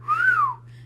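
A single catcall whistle imitated by a voice, a rising then falling wolf whistle that is short, close and clear over a faint low hum.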